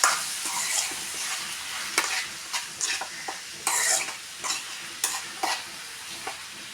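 Onion, tomato and green chilies stir-fried in a pan for a mushroom dish, with a steady close sizzle broken by repeated sharp scraping strokes of a spoon every half second or so.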